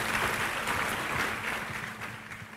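A church congregation claps during a Sunday morning service, a full, even patter of many hands that fades slightly toward the end.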